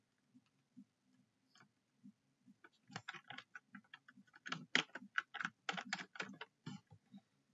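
Someone types text on a computer keyboard: soft, sparse taps at first, then faster, irregular clusters of close key clicks.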